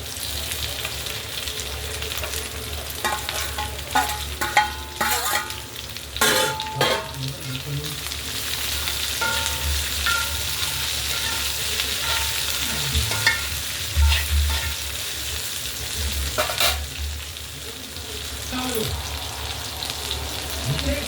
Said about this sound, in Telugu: ఆనియన్ బాగా వేగిన తర్వాత ఇప్పుడు బెండకాయలు వేసుకోవడం